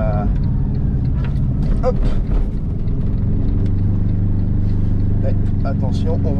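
An Aixam GTI microcar driving along, its small engine giving a steady, fairly loud drone beneath someone talking over it in French.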